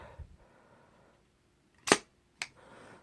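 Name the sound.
Winchester Model 12 shotgun pump being racked forward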